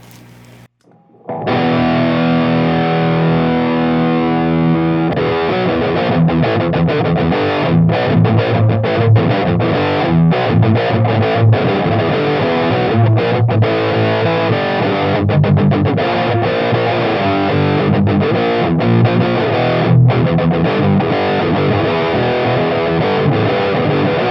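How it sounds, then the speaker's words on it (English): Aria Pro II XR electric guitar on the humbucker pickup, played through a Boss MT-2 Metal Zone distortion pedal: loud, thick, saturated riffing with sustained chords and rhythmic chugging, alone for over twenty seconds after a brief quiet start. "let's go over to my favorite, the Metal Zone, MT2 Boss Metal Zone"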